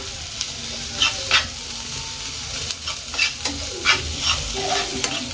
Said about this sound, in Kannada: ಧನಿಯಾ ಪೌಡ್ರ್ ಒಂದು ಚಮಚ ಹಾಕೊಂಡ್ಬಿಟ್ಟೆ ಇದನ್ನು ಪೂರ ಫ್ರೈಸ್ಕೊಳ್ತೇನೆ